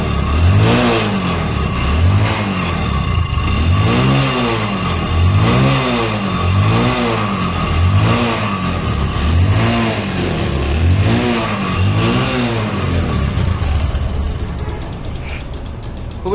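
A Bajaj Discover 100cc motorcycle engine idles and revs repeatedly in steady, rhythmic surges, loud and close throughout with no voices.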